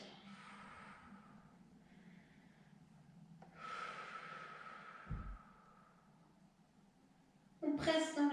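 Slow, deep breaths during a Pilates chair exercise, with drawn-out airy inhales and exhales rising and fading, a brief low bump midway, and a louder sharp breath at the end.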